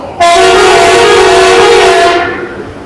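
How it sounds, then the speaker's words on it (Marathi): A loud, sustained train horn blares for about two seconds inside a tunnel, echoing, then fades into a rumbling reverberant tail. "आणि बोगद्यात गेलेलो आहे. आणि हॉर्नचा आवाज आहे का"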